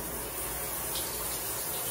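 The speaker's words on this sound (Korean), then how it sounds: "샤워기를 틀어서 물을 케이지 전체에 골고루 묻혀줍니다." A shower sprays water over an acrylic hamster cage, giving a steady, close hiss of running water with no break across the short stretch.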